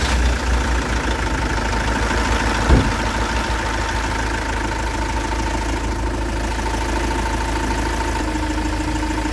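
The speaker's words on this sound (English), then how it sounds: "Right, I'll start it up, let it run for a couple of minutes" An Iveco Daily self-build motorhome engine idles steadily with a low diesel rumble and a constant hum, and a brief thump occurs a few seconds in, without any talk.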